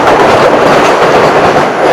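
The Kriya Yoga Express passenger train running between Kolkata and Ranchi in the monsoon, a loud steady rumble and rattle of wheels and carriages heard from on board, with no speech.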